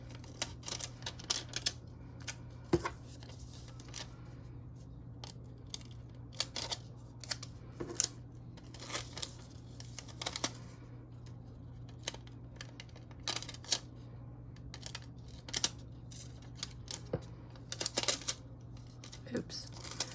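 Scissors snipping printable stickers off a sheet of paper: a long run of soft, irregular close clicks and crisp cuts over a steady low background hum, with quiet speech mixed in.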